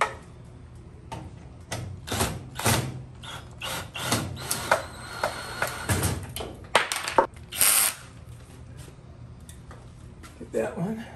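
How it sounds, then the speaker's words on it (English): A part of a Summit 20-inch four-burner gas stove with sealed burners and electronic ignition is screwed down by hand, giving irregular close clicks, taps and short ratcheting scrapes, with a faint voice murmuring now and then. "Now let's see if I can screw this down."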